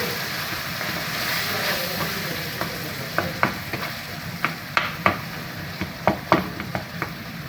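Chicken gizzards fry in a pan with a steady sizzle, and a utensil stirs them, scraping and tapping in a run of sharp knocks that grows busier in the second half, no voices.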